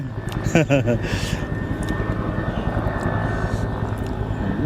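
An airplane flies over near an airport, its steady engine drone rumbling loudly throughout, with a brief voice at the start.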